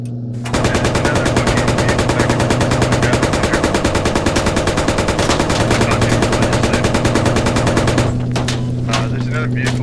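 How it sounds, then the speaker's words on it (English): Sustained automatic machine gun fire in the military shooter game Squad, a rapid, loud, continuous burst lasting several seconds before it stops, with faint chatter around it. "Fire machine guns."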